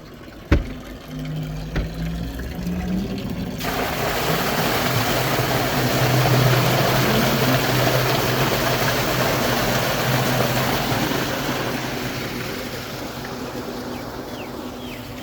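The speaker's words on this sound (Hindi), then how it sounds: "हमने खैर से सोलर वाला ट्यूबवेल चला दिया है" A solar-powered tubewell pump starts up after a sharp knock and then runs with a steady broadband rush of motor and gushing water, loud and continuous outdoors, with no talk.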